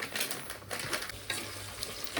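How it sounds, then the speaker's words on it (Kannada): Onions frying in oil in a home kitchen pan: a close, crackling sizzle with scraping stirring strokes and light clinks of a utensil against the pan, no voices. "ಇವಾಗ ಚಲೋ ಉಳ್ಳಾಗಡ್ಡಿ ಫ್ರೈ ಆಗಿದ್ವು."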